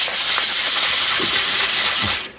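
Magazine paper being rubbed to distress it, a steady dry scratchy friction that runs continuously at close range, with a few soft lower bumps from handling and no voices.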